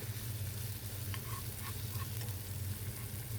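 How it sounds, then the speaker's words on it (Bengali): Onions sizzling in hot oil in a pan, browning for a tomato mash dish; a steady close crackle and hiss with a few small pops, no talking. "এখানে আমি পেঁয়াজ দিচ্ছি তেলও বেরেস্তা হইতো করি"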